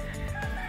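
Bresse cross chickens on a farm cluck close by, a short burst of fowl calls over steady background noise.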